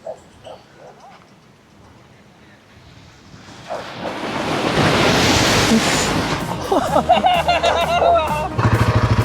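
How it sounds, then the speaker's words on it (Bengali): Surf on Tajpur beach swells into a broad, rushing roar midway, then eases under chatter and nearby noises toward the end. "সেই লেভেলের ঢেউ আসছে।"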